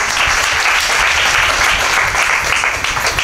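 Audience at a Marathi kirtan giving loud, dense applause, a steady roar of many hands clapping throughout, close and continuous.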